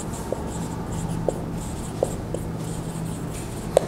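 Chalk tapping and scratching on a board in a classroom maths lesson, a few short separate strokes at irregular intervals over a quiet room hum.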